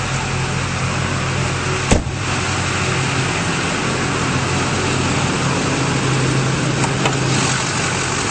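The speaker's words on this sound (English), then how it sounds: "You got a nice clean engine bay, and as you can hear, it's running very smoothly." A 2003 Chevrolet Silverado 2500 with a 6.6L LB7 diesel idles steadily and loudly up close under an open hood, a smooth continuous rumble with a couple of brief clicks.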